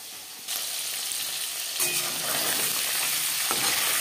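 Live tangra fish drop into hot oil, a soft hiss swelling at once into a loud, dense, steady crackling sizzle that grows more vigorous as the frying goes on.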